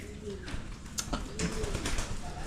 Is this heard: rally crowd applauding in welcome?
no